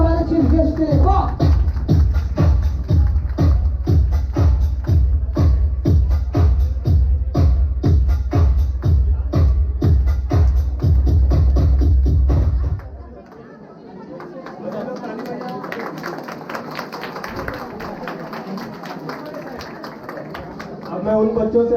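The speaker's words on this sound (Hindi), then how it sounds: "एक जोरदार ताली हमारे चीफ गेस्ट के लिए।" Audience clapping for the chief guest at an annual community event, a loud steady rhythmic clap from many hands over most of the stretch, then fading into scattered crowd chatter and softer applause.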